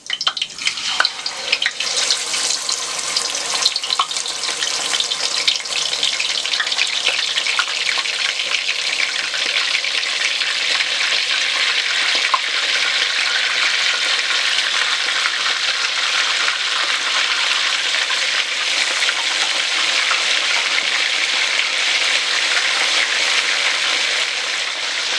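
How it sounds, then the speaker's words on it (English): Continuous loud sizzling and crackling of fish frying in hot oil, a steady bright hiss that holds throughout with no talking. "I'm going to start frying the fish"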